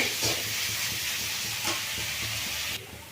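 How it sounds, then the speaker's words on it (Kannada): Onions fry in oil in a pan, giving a steady close sizzle and hiss with faint stirring clicks, no voices over it. "ಈಗ ಈರುಳ್ಳಿ ಎಲ್ಲ ಚಂದಕ್ಕೆ ಫ್ರೈ ಆಗಿದೆ"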